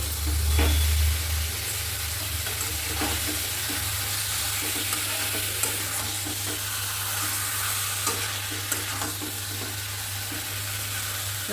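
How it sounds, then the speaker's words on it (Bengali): Chicken pieces fry in spiced oil in a pan, giving a steady, loud sizzle close by with light stirring scrapes and no voices. "চিকেন দেওয়ার পর আরও সুন্দর করে কষিয়ে নেব"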